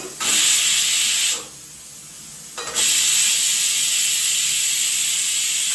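A pressure cooker vents steam in loud, close, high hissing bursts: a long jet, a short drop to a softer hiss, then a strong jet again that keeps going.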